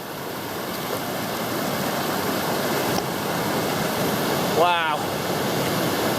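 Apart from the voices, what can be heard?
fast-flowing river during Wairua River crossing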